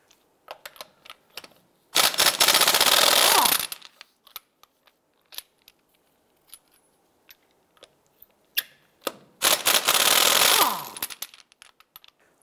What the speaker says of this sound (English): Our particular wheel has custom lug nuts, so we're going to use our locking tool to remove these here.